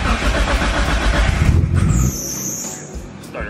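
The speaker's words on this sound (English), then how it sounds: "Started right up. But right away you could just hear that misfire." A Nissan 240SX fitted with an RB25 engine cranks and fires up with a misfire, a loud, rough engine roar for about two seconds that then drops to a lower, uneven idle with a high whine above it.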